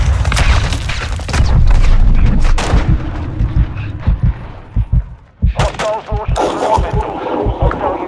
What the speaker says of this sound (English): Only damn grenades.